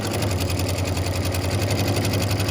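Sewing machine stitching a quilt block, a continuous fast mechanical chatter with a low motor hum, close and steady throughout with no voices.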